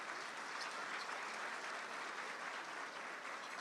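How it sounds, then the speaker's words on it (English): Steady applause from an audience at a mayor's business luncheon, a dense, even wash of clapping held at a moderate level for the whole stretch, somewhat distant and with no one speaking over it. "give her a round of applause"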